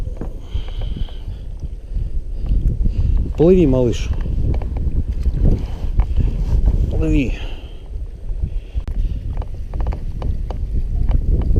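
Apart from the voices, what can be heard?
strong wind while fishing from a boat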